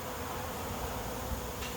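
Honey bees swarming at a swarm trap make a dense, steady buzz of many wings that holds at an even level for the whole stretch, with no talk over it.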